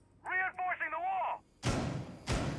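A voice speaks briefly, then two heavy, booming thuds follow about half a second apart as a wall is reinforced during a tense bomb-defense round in a video game.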